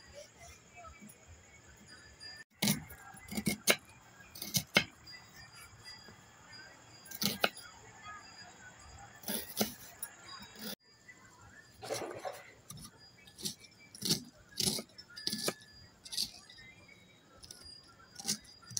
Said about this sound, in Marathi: आता हा कांदा मी बारीक चिरून घेणार आहे